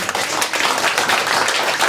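An audience at a church leadership training claps together, a dense, loud, steady patter of many hands close by, with no speech over it.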